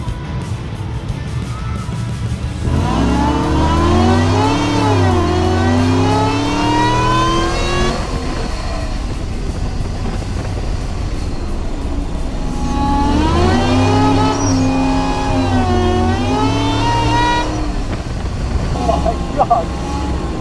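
A supercharged Chevrolet Silverado pickup races an autocross course, its engine revving hard in two long rising and falling pulls with shifts between, loud and close, interrupted by a short quieter lull.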